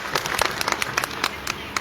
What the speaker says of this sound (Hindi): आपकी जोरदार तालियों के साथ